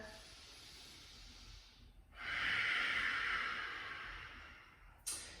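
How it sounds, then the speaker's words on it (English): A long, deep breath during a gentle shoulder-opening yoga session: one airy, close exhale that swells and slowly fades, quiet and alone without talk. "Take 2 breaths here. And let your body hear that breath."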